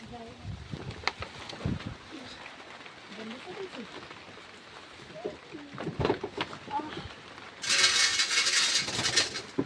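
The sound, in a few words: pigeons cooing in the rain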